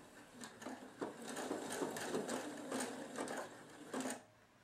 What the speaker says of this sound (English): So now I'm just going to start stitching.